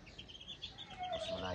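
Seven-day-old chicks in a coop with screened doors chirp in a soft, busy chorus of repeated high peeps, with a steadier, slightly louder stretch of calling toward the end.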